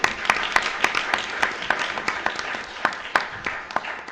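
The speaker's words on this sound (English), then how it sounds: "extend a huge round of applause to Will." Applause from a modest summit audience, fairly close, with distinct individual claps standing out in an uneven rhythm over a thinner layer of clapping, no voices on top.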